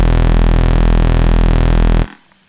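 Serum synth lead built from two detuned saw oscillators, with an LFO on fine pitch giving a steady wobbling movement; a loud, sustained buzzy tone plays alone for two seconds, then cuts off abruptly.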